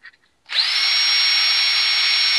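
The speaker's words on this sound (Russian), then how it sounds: "И аккуратненько просверлю отверстие. Сначала небольшим сверлышком." A small bit bores a hole for lure-making after a few light taps, then the drill spins up to a steady high-pitched whine that runs on evenly and close by.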